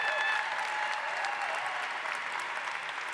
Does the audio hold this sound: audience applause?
yes